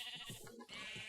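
Sheep in the Minecraft video game give a short series of bleats in quick succession, with one brief pause partway through, and no one speaks over them.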